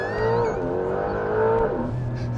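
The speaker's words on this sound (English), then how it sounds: "This is the launch control of the Carrera GTS." A 2025 Porsche 911 Carrera GTS T-Hybrid with a turbo flat-six launching under launch control: a loud rising engine howl heard from inside the cabin, broken by a gear change near the end.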